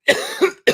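Three harsh, close coughs in quick succession from one person, the middle one softer and the last abrupt.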